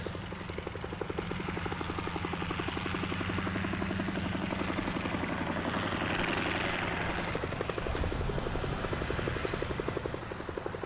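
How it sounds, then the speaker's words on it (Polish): Helicopter in a video game, a continuous rapid rotor chop with a steady engine drone, loud and sustained throughout and briefly shifting in tone near the end, with no voices over it. "I tu mamy wydarzenie miesiąca. Helikopter."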